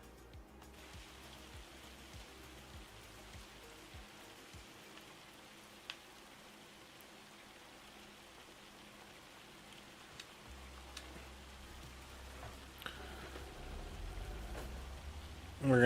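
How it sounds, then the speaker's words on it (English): Hail pelting down steadily in the Farming Simulator 25 video game on the Kinlaig map, a dense, even patter of small impacts that holds for the whole stretch and thickens slightly near the end. "And of course we got hail."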